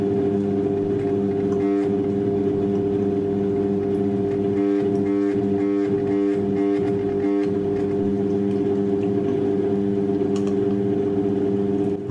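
A new electric meat grinder with a Stretch Armstrong toy jammed inside gives off a steady, loud mechanical hum with strong tonal bands, running unbroken for the whole stretch with faint rattles.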